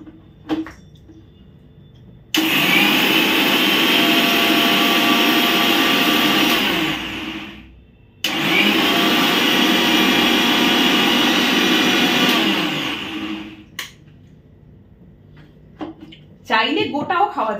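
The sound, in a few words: blender blending cumin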